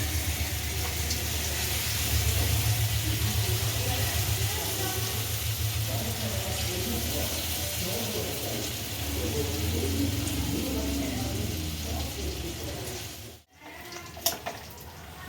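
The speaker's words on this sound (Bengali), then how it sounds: "বড়াগুলো এক পিঠ ভাজা হয়ে গেছে উল্টে দেওয়া হচ্ছে আর এক পিঠ ভাজা হবে" Urad dal fritters frying in hot oil in a home kitchen, a steady soft sizzle running throughout at low volume, with a short break and faint clatter near the end.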